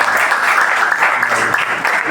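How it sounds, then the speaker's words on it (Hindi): Steady applause fills a hall at a senior citizens' monthly meeting and birthday gathering, with a crowd clapping together continuously at close range. "ताली बड़ी धीरे लगाइए, थोड़ा तेज लगा दें।"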